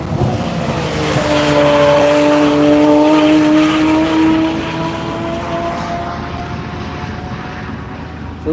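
Porsche and Tesla race cars driving past on a track at Hedge Hollow, a loud engine drone rising and then fading as the cars pass nearby, with whining tones held across several seconds.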